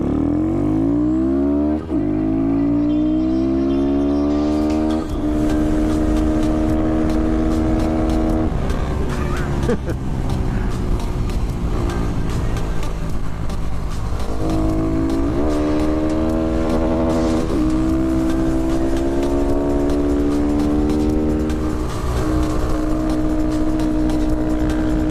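Honda Grom motorcycles racing at Hallett Motor Racing track, a close single-cylinder engine revving hard through repeated upshifts and rising pulls, with other bikes buzzing nearby throughout.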